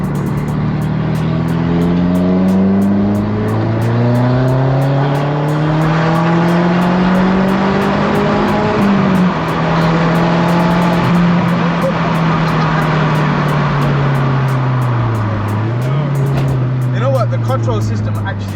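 Heard from inside, a loud modified Audi S3 8L with the 210 APY engine roars as it accelerates, its booming exhaust note rising and dipping through gear changes, while people talk beneath it.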